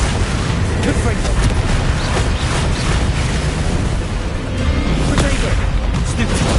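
Fiery Confringo spell blasts in Hogwarts Legacy roll together into a dense, loud rumbling wash with sharp bursts punching through, under a voice speaking over the action.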